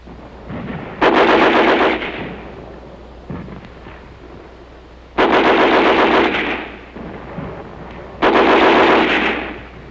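Sound effect of WW2 street fighting in Marche, Belgium: loud, close bursts of machine-gun fire come in three sustained volleys separated by quieter gaps, with no voices.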